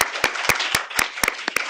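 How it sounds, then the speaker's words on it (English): An audience applauds after a festival panel discussion: close, dense clapping that lasts the whole short moment, with sharper claps standing out at a fairly even pace. "This applause is also for yourselves, for your questions."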